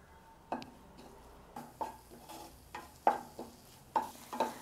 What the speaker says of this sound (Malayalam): ഈ മസാലയുടെ ആ ഒരു പച്ച മണം മാറുന്നതുവരെ മാത്രം നമ്മളൊന്ന് ചെറുതായിട്ടൊന്ന് വഴറ്റി കൊടുക്കാം